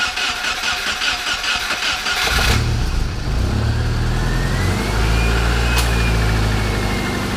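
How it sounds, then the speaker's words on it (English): A 2002 Subaru Forester engine, just back together after a head gasket repair, cranks and catches at about two seconds, then settles into a loud, steady idle close by with a brief rise in revs. "we're gonna go for first start here"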